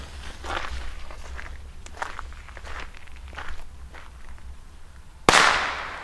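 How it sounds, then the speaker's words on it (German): Pyro-Cracker firecracker set off outdoors on New Year's Eve: footsteps crunch nearby for several seconds, then a single sharp bang ends the clip. "Und los geht's, Pyro-Cracker"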